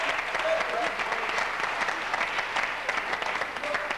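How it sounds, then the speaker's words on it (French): A studio crowd claps for a contestant on the 1990 French game show Motus, producing continuous, fairly loud applause with a dense, even patter and small swells. "qu'on va applaudir aussi"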